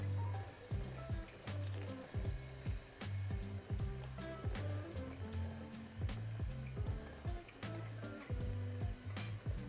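A stand mixer churns peanut butter cookie dough on a slow setting, a low pulsing motor hum with a steady repeating thump as the beater turns, close and continuous.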